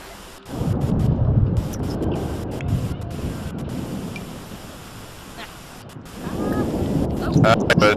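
Thunder from a storm rolls as a deep, sustained rumble that swells, eases in the middle, then builds again near the end, with rain-like hiss above it.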